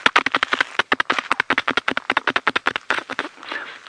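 A voice imitates a hippopotamus spraying its dung by flapping its tail side to side in the bush, a fast run of sharp, rattling spluttery bursts at close range that slows and fades near the end.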